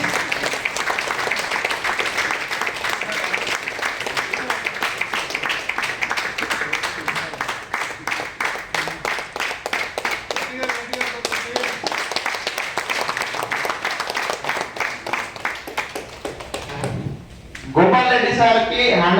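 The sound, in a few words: audience applause welcoming Gopal Reddy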